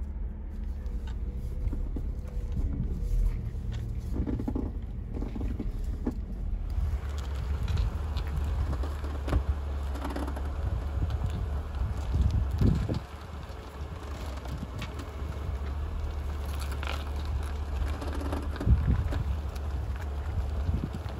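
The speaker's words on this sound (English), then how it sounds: "It just sounds like something's rubbing, like a bushing is rubbing or something's pinching or something" A 2004 Mercedes CLK500 rolling at slow speed on a cold day gives off a faint, irregular rubbing and knocking from the steering or suspension, heard over a constant low road rumble and wind.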